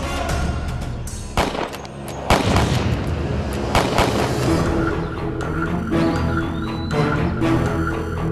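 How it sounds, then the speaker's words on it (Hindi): Gunshots ring out in a rapid sequence of sharp, loud cracks and booms, several in quick succession with echoing tails, and no talk over them. "छुप छुप के कायरों की तरह कौन गोली चलावत है?"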